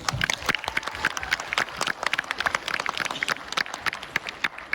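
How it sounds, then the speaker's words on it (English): Audience applause for two competing teams at a case presentation event, a moderate round of scattered, somewhat thin clapping lasting a few seconds. "Can everybody just give them a round of applause?"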